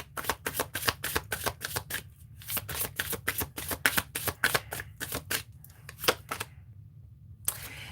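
Star oracle cards being shuffled close by, with rapid papery riffling and slapping in quick bursts separated by short pauses.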